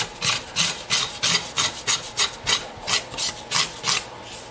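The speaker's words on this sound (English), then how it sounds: "But this actually just curls the wood right off of there and does a really nice job." A hand scraper curls thin shavings of wood off the body of a custom guitar, giving a steady run of about eleven sharp, raspy strokes in an even rhythm, close and clear with no talking.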